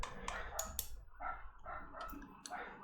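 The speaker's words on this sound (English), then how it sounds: "Excuse that barking outside," A dog barks several times outdoors, muffled and at a distance, in short sharp bursts spread across the stretch over a steady low background hum.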